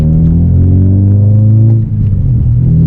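Loud, close exhaust rumble from a 2009 eighth-generation Honda Civic Si with a big aftermarket exhaust, a deep steady drone that sags briefly near the end and then picks back up, with no talk.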